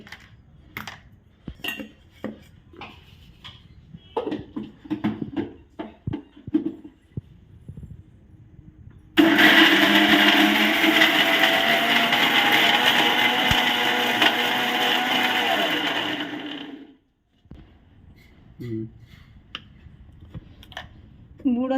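A mixer grinder runs loud and steady for about eight seconds, grinding a pickle of red chillies and tamarind, then stops. Clinks and taps of utensils come before and after it.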